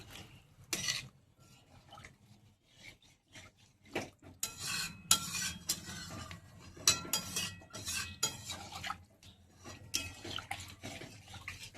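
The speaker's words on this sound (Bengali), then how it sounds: "জলটা দিয়ে ভালো করে আমি মিশিয়ে নিচ্ছি" Water being stirred into a low-oil pointed gourd curry, with a string of close, scraping spoon strokes and wet swishes in an irregular rhythm against a quiet pan.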